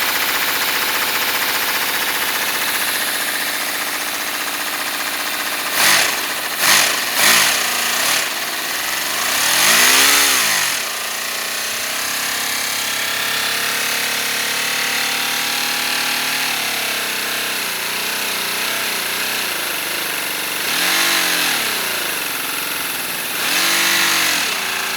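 A miniature V12 Lamborghini engine runs steadily with a fast, buzzing mechanical drone and several throttle blips that rise and fall, heard close with no voices over it.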